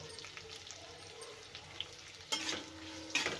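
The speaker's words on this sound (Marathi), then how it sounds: "तोही घालायचा आणि तेलामध्ये मस्त फ्राय करायचं आहे" Crushed garlic sizzles softly in hot oil, a quiet frying crackle with faint stirring. Two sharper clatters come near the end.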